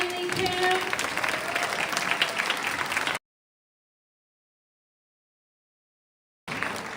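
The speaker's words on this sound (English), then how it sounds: "Keep that round of applause going for Joanne Lee Kim." Indoor audience applauding a performer, Joanne Lee Kim, at a community program, dense steady clapping for about three seconds, then silence, then a brief return of clapping at the end.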